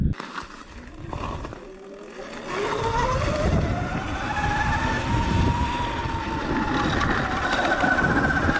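Sur Ron X electric dirt bike climbing a mountain trail under heavy throttle, its motor whine rising steadily in pitch as it pulls uphill, loud and continuous with rough wind and terrain noise underneath.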